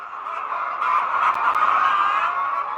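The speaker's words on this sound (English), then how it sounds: "the chickens had a lot to say" A dense, continuous chorus of hens clucking and murmuring together, steady and fairly loud with no pauses.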